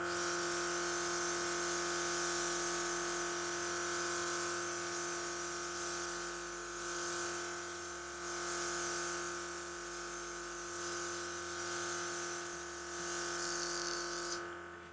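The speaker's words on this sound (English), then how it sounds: "I'm going in with my Airbrush CBD Moist and Dewy and spraying this all over my face" A makeup airbrush compressor hums steadily while spraying airbrush foundation, a constant close electric drone with a soft hissing mist that swells and eases in short bursts, no voices present.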